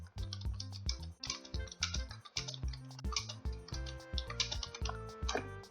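Rapid typing on a computer keyboard, with dense, irregular key clicks and clacks continuing without pause, close and fairly clear, with no talking.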